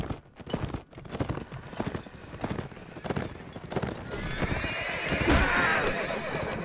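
Horse archers charge on horseback in the medieval combat video game Mount & Blade: Warband, with rapid hoofbeats drumming close and loud, a horse whinnying over them and battle noise swelling toward the end.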